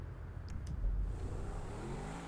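Adder supercar engine in a video game, a steady low mechanical hum with a slight swell, no speech.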